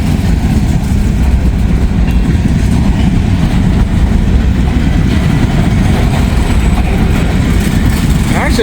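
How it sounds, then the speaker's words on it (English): A long freight train loaded with potash rolls past at close range, producing a loud, continuous rumble of wheels and railcars on the track. "Lots of potash on this train"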